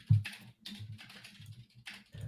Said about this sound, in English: Pete, you're typing away pretty fast here.